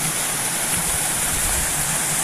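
The River Bath flows outdoors in a continuous broadband rush with a steady hiss and no breaks, close and fairly loud, with no voices over it.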